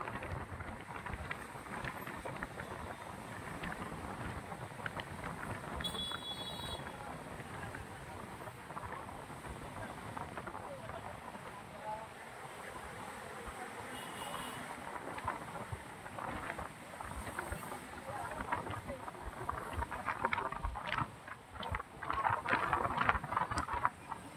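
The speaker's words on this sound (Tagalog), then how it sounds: "Ganyan yung hangin, no? Pagaspas ng hangin" Steady, blustery wind roaring across the microphone at the Manila Baywalk Dolomite Beach, buffeting continuously with gusts growing stronger near the end.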